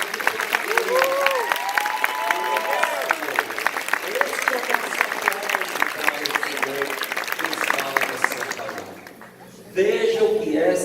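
Congregation at a church Carnival retreat applauding, a steady wash of clapping with crowd voices and speech over it, with a short lull near the end before the sound resumes.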